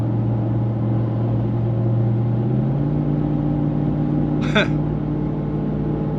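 Ram TRX pickup truck cruising on the highway, a steady low engine drone and road rumble from inside the cab, with a brief higher rattle partway through.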